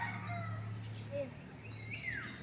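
Faint outdoor bird chirps, a few short calls and a rising whistle-like note, against a soft background hum.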